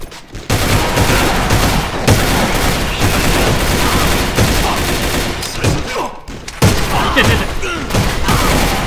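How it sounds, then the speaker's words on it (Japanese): Heavy bursts of gunfire fill an AVA first-person shooter match, loud rapid volleys with booming impacts that barely pause, with brief lulls near the two-second and six-second marks before the shooting resumes. "いてぇ、撃ってくるめっちゃ。"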